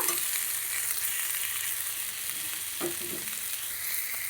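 Tomato and ground dry-chilli-cumin paste sauté in a pan with potatoes and jackfruit seeds, sizzling steadily up close while a spoon scrapes through it now and then.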